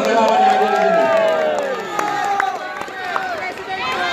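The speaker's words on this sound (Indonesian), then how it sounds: "Kita beri tepuk tangan untuk seluruh relawan yang hadir di sini." A large crowd at a mass rally in South Sulawesi claps and cheers for volunteers, a broad roar of voices and applause with shouts rising over it and sustained at a loud level.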